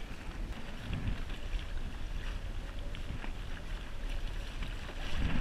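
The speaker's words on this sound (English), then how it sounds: "the wind just picked up right now" Wind picks up over open water during kayak fishing, a steady rumbling gust buffeting the microphone with a broad rushing hiss and faint water lapping throughout.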